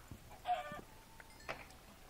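A chicken in Minecraft gives a few short, faint clucks, scattered quick calls set against quiet background, with no one talking.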